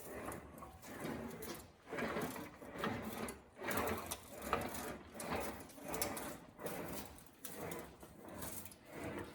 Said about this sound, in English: put it in an English wheel to smooth it out